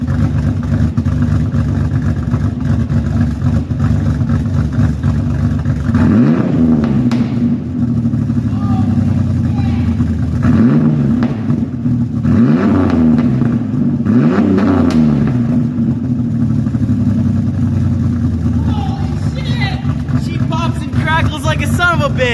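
A 2000 Ford Ranger with a 3.0L V6 and a cat-back exhaust, idling loudly with a steady rumble before several sharp revs swell and fall back, close to the listener.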